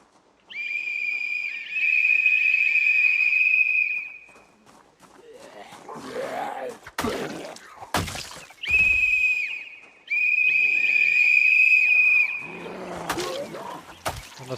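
Two long, piercing whistle blasts sound in the Project Zomboid video game, each holding a steady high tone for roughly three seconds. Scattered thuds and rustling noises fill the gaps between them.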